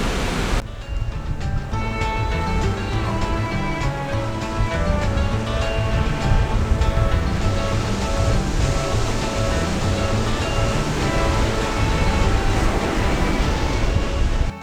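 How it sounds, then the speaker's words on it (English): Ocean waves break on the shore beside a parked camper van, giving a loud, continuous wash of surf with a steady roar throughout and no talking. "we're sitting here on the ocean watching the waves"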